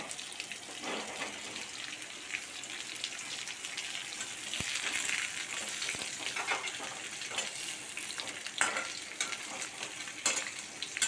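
Drumstick stems, drumsticks and pumpkin pieces go into a hot pot of oil for a dal, giving a continuous soft sizzle with scattered scraping and stirring clatter, moderately close and steady throughout.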